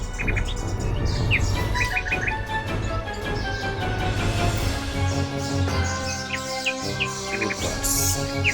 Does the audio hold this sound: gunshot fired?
no